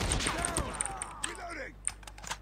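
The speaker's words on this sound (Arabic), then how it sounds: "ده أنا المدفع اللي حطيته بص قايم بالواجب." Rapid, sharp gunfire pops from a placed cannon in a Call of Duty Mobile game mode, scattered shots over busy game effects and sweeping tones, with a voice talking underneath.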